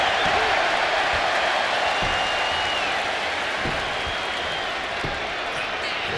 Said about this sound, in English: And Bulldog is revving this crowd up.